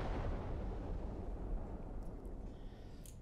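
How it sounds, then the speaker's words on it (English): A distant grenade blast in the World War II shooter Classified: France '44 rumbles low and muffled, its boom rolling and decaying over a few seconds with faint debris and crackle, quiet overall and with no talk. "Grenade!"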